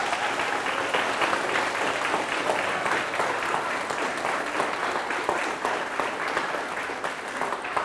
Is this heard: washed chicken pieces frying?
no